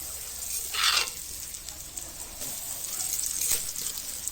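Cabbage stir-frying in a pan, with a steady close sizzle broken by a few brief louder bursts of hissing as the food is tossed, and no talk.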